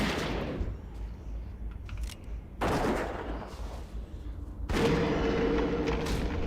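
Dwarf hunter firing a gun in World of Warcraft, with sharp bursts of gunfire at about 0, 2.7 and 4.7 seconds, each loud with a broad decaying tail over game ambience.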